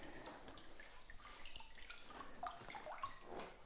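Soft trickles and drips of water as a large Philodendron houseplant is set back into water during a switch to semi-hydro, faint and close in a quiet room.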